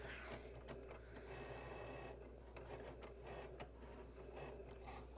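A Cricut cutting machine keeps running, a faint steady mechanical whir with soft rhythmic ticking and shuffling of the carriage, heard alone at low level.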